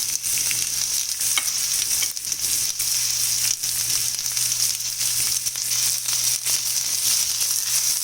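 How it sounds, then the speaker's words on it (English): Chopped vegetables frying in hot oil give a loud, dense, continuous sizzle with crackling and occasional stirring scrapes, close up, over a steady low hum. "Once the oil is nice and hot, add all the chopped vegetables to it."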